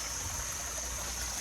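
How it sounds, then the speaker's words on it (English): Water pumped up from an 80-metre well pours steadily into a pond, a continuous close rushing and trickling stream with no pauses. "There's a pump at the bottom, it pumps the water up."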